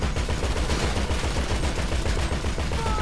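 Rapid automatic gunfire rattles continuously at close range in the video game GTA V, a dense, fast stream of shots with no pauses.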